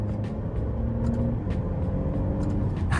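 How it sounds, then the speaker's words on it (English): Engine of a 2023 Alfa Romeo Giulia sport sedan during paddle-shift downshifts, heard from inside the cabin as a steady low rumble with faint upper-pitched mechanical whine, continuous and close. "you chuck down a few downshifts,"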